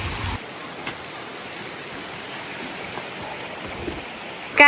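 A wide river flows steadily at a campsite in Baling, Kedah, a constant near rushing wash of water that fills the whole clip without a break.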